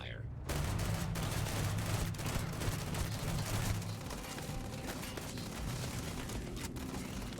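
Sustained gunfire in Starfield during a fight with robots, a continuous rattling stream of shots and impacts alongside a low hum of background game sound.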